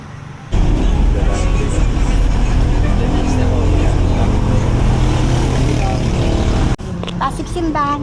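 Jeepney ride through city traffic on the way to Pasig, with a steady loud engine rumble and road noise filling the cabin, then a brief drop as the vehicle slows and someone speaks over the quieter hum.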